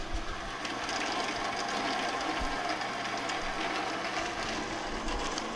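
A bandsaw runs continuously as it cuts a piece of mud flap material to length, a steady droning whir with a faint mechanical rattle, fairly quiet and even throughout.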